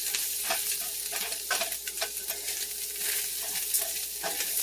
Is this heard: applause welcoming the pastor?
no